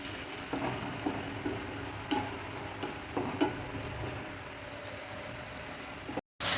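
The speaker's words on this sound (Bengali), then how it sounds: "একটু ভেজে নেবো আমি এই দুটোকে।" Ground mustard and poppy seed paste frying in a pan, a steady close sizzle with several soft spoon scrapes and knocks at irregular intervals, ending in a short drop to silence.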